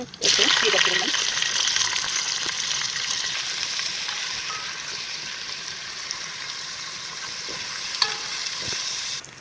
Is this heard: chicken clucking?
no